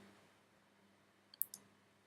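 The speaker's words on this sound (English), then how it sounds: "And now if I click render" A mouse clicks the render button in Maya 2014: two or three quick, faint, crisp clicks close together in an otherwise quiet room.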